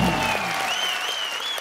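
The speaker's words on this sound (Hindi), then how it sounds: "जोरदार तालियां।" Studio audience on The Kapil Sharma Show breaks into loud applause, a dense, continuous wash of clapping and cheering that holds steady throughout.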